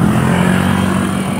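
Motorcycle on a highway, a steady loud engine drone with revving tone that holds constant for the whole moment, close and continuous with no talk.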